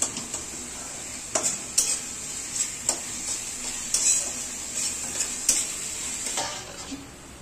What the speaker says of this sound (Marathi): राईस थोडासा हलकासा फ्राय होऊन द्यायचा